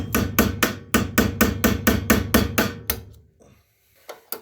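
A rapid series of about a dozen loud, evenly spaced hammer blows on metal, close by, knocking out Kohler engine motor mounts on a garden tractor, then a pause and a couple of lighter knocks.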